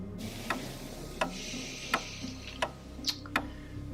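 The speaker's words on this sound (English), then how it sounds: "It's an alarm clock." An alarm clock ticks in a quiet room, about six crisp, evenly spaced ticks, each roughly two-thirds of a second apart, fairly close and faint against a low background hum, with no one speaking.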